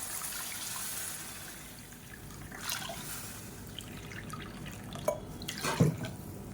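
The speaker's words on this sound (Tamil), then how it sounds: "அதே கப்பில் நாலு கப் அளவுக்கு தண்ணி சேர்த்துக்கலாம்" Water poured from a cup into a pan of sautéed onions and tomatoes for tomato rava kichadi, a soft steady trickle under sizzling, ending with a few louder splashes and drips.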